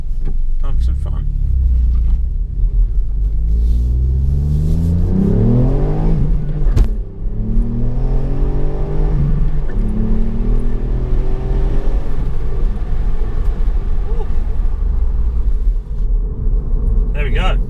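A 2019 Mk8 Ford Fiesta ST hot hatch engine in sport mode revs hard and accelerates through several rising gear pulls, loud and close, with a low constant rumble underneath.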